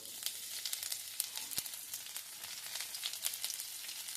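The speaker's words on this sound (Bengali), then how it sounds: "রসুনটা একটু আমি ভেজে নিচ্ছি" Chopped garlic, cumin seeds and a dried red chilli frying in oil, giving a soft, continuous crackling sizzle with small popping spikes, fairly faint and without voices.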